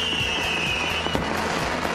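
Fireworks at a pyrotechnics display boom and crackle continuously, with repeated sharp bangs over a dense hiss of sparkling crackle and a steady high whistle, loud and close with no talk.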